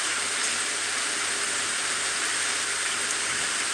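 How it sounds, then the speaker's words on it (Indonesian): Dense, steady hiss of heavy rain in a ship simulator video game, pouring without a break, loud and enveloping throughout. "Ini hujan lebat ya."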